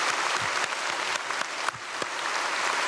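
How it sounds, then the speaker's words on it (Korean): A church congregation at a Sunday service claps steadily alongside the choir, a dense, even wash of applause from a large crowd with no talking over it. "성가대와 함께 박수하겠습니다."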